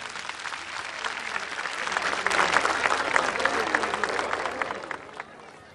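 A stage audience applauds a zeybek folk musician at a televised music event in a dense, sustained burst of clapping that swells in the middle and then fades out near the end.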